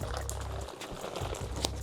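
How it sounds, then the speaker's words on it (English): Water simmers in a pot after dye is added for a DIY spoon project, a close, steady bubbling and liquid churning that continues throughout without speech. "When the water begins to simmer, add dye and mix well."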